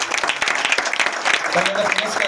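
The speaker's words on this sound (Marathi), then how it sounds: "जोरदार टाळ्या वाजवायच्या" Audience applause at an award ceremony, a dense burst of clapping filling the short clip, with voices mixed underneath.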